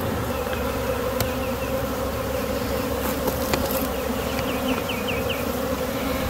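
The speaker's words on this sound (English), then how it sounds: "these bees all seem to be pretty calm and fanning" Calm honeybee swarm fanning inside a box produces a steady, dense insect hum close by, uninterrupted throughout.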